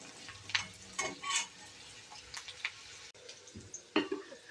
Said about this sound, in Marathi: कांदा नरम होईपर्यंत छान परतून घेऊ.